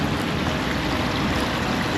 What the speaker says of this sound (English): Got a beautiful waterfall.